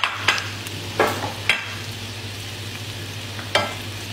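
Onions frying in olive oil in a pan, a steady soft sizzle with a few sharp stirring scrapes and clinks at irregular moments, close and alone with no talking.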